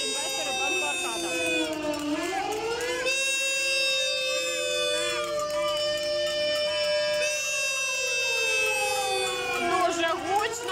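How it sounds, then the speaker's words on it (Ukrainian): A loud siren wails and rises and falls in pitch continuously at a street protest by bank depositors near the Kyiv city administration on Khreshchatyk, with crowd noise beneath it. "вимкнули таку, знаєте, сирену, яка гуде на весь Хрещатик"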